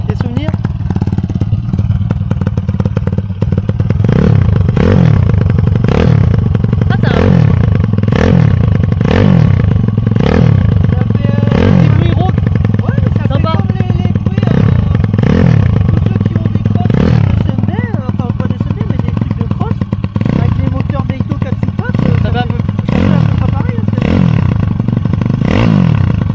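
A YCF 190 Daytona flat track motorcycle engine runs loud and close with a rough, clattering idle, revving in a steady repeating rise and fall across nearly half a minute while people talk over it.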